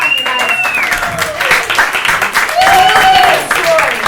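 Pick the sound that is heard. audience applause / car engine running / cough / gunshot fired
audience applause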